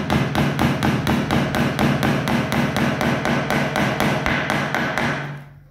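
Small nails hammered into a wooden canvas stretcher frame, a fast, steady run of loud close taps, about three or four per second, lasting several seconds before stopping, with no talk.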